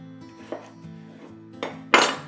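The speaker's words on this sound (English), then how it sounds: "just cut my potatoes in half the long way and cut good sized chunks for boiling" A knife chops potatoes into good-sized chunks on a kitchen surface for boiling, giving a few sharp knocks and scrapes, with the loudest cut at the end.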